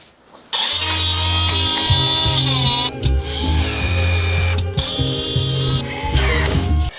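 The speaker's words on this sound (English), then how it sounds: "And now we'll put the holes and rivets in" A power drill boring holes and riveting gloss black trim on a BMW F32 4 Series, with a loud, steady, close motor whine that changes pitch in several runs, broken by short stops.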